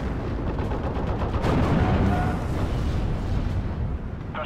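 Artillery barrage in the WWII strategy game Steel Division, a dense continuous rumble of distant booms and blasts rolling on for several seconds with a swell in the middle.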